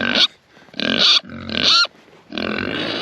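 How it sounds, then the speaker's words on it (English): Pigs squeal and grunt loudly nearby in several harsh bursts, separated by short pauses, with no talking. "Pigs are very talkative this morning, making all kinds of noises."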